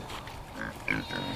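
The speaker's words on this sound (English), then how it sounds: "it's pretty much time to move these pigs" Pigs on a farm on a cold morning give a few close, low grunts over a short, steady stretch of outdoor background.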